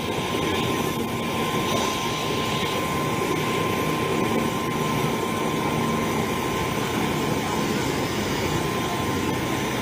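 A helicopter at the Kerinci site where the Jambi police chief's party crashed, a loud steady rotor and engine roar close by, unbroken throughout, with faint voices in the background.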